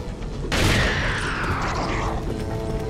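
Explosions in the video game Resident Evil 4: a loud, broadband blast erupts half a second in and rumbles with debris and crackle as it slowly decays over the next two seconds.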